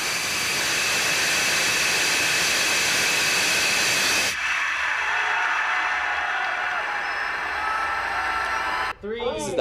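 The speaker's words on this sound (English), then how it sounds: "This was the second 3D printed rocket engine from university." A university-made 3D printed rocket engine firing with a loud, continuous roaring hiss that drops abruptly to a quieter rushing noise partway through and then cuts off near the end.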